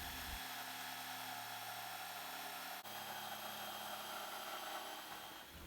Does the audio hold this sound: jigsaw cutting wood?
yes